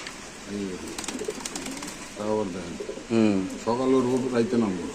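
Pakistani Giribaz pigeons cooing at a pigeon sale, repeated close rolling coos in bursts, with someone talking in between.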